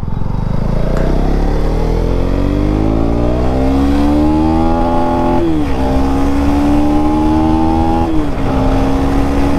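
KTM Duke 250 Gen3 motorcycle riding and turning, the engine droning loud and close through a long rising rev, then easing off and climbing again in steps as gears shift, with constant wind rush.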